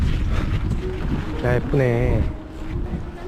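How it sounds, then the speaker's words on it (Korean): Wind gusts and rain sweep through the Versailles palace gardens outdoors, a steady broadband rush filling the whole stretch while someone speaks briefly over it. "근데 비 오고 바람 불고"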